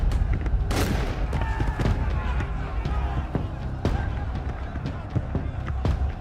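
Rifle gunfire rings out in a battle reenactment as sharp, scattered shots and booms over a dense, rumbling background, close and loud, with a voice talking over the shooting.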